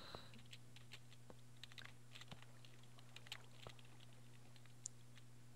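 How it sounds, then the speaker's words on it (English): A computer keyboard hammered hard during typing, a fast, irregular patter of sharp clicks, very quiet and distant over a faint steady hum. "You can probably hear my keyboard clicking hard"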